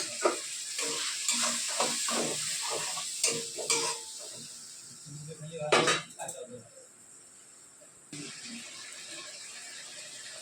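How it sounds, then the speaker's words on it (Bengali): Water from rinsing the spice bowl is poured into frying masala for a Rohu fish-head and bottle gourd ghonto. It brings a burst of hissing sizzle and splashing over steady frying, with stirring clatter before it and no talk. "একটু মশলা বাটির জলটা ধুয়ে দিয়ে দিচ্ছে যাতে না তলায় লেগে যায় মশলাটা"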